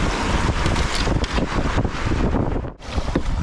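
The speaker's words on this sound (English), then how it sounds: "The wind's back." Steady wind rushing past the microphone while kayaking on the Devils River, a loud broadband buffeting that briefly dips near the end.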